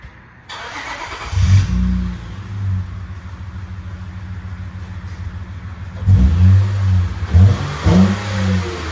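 A 2007 Honda Accord 3.0L V6 engine with a muffler delete and two resonators revs twice with a deep, throaty roar, separated by a steady rumbling idle, loud and close with no talking.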